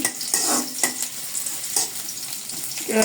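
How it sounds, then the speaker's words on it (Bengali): Chopped onions hitting hot oil with a bay leaf in a wok, a bright crackling sizzle with a few spatula scrapes and clinks, close and steady, for chicken keema biryani. "এখন আমি কুচি করে রাখা পেঁয়াজগুলো দিয়ে দেবো"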